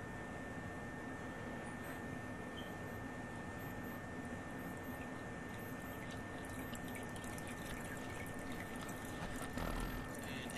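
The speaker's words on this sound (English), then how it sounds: "As the water goes down, you can see that there's water coming in from the small holes from the side." Water trickles steadily into a basement sump pit, seeping in through small holes in the side of the pit as the water level drops; a soft, continuous running-water sound with no talk.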